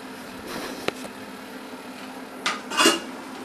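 Lid of an EveryCook cooking machine opening: a small click, then a brief metallic scrape and clatter of the lid against the pot, close by over a steady fan hum.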